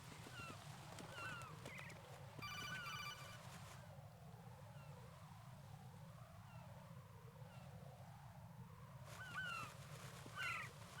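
In Metal Gear Solid 2: Sons of Liberty, an incoming codec call rings in repeated electronic chirping bursts near the start and again near the end, faint over a low, steady game ambience with no talk.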